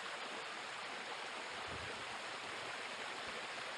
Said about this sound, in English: Top of the waterfall, Bells Rapids.